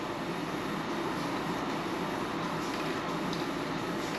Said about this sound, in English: Just ignore the fan in the background.